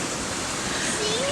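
Rushing water pours steadily at a waterfall in Trinidad, a close, even roar filling the whole moment, with a faint tonal voice or whistle rising near the end.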